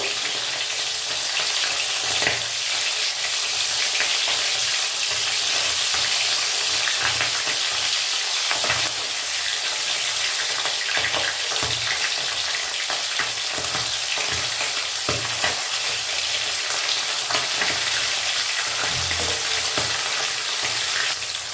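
Small fish frying in a pan, giving a steady, loud sizzle and crackle that runs unbroken from start to finish, with no voices.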